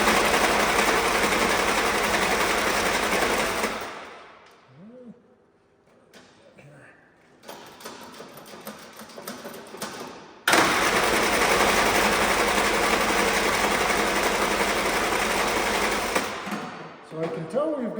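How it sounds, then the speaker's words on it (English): An old Willys jeep engine runs loud and rough for a few seconds, cuts out into near quiet with faint knocks, then roars back to life and keeps running steadily close by. "there's nothing to it but to turn the ignition on and see what happens"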